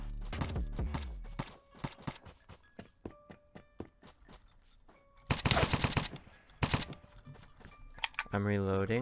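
Gunfire in Apocalypse Rising 2: a rapid series of sharp, close shots in irregular bursts, with dense volleys in the middle and near the end, under a player's voice.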